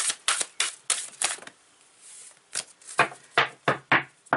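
A deck of cards that don't shuffle well is riffled and tapped in a series of sharp, crisp clicks and flutters, close up, with a short pause midway; no talking.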